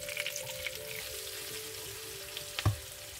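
Leeks frying in a hot pan with garlic and ginger, a soft continuous sizzle and crackle with a sharp clatter near the end, fairly quiet and close.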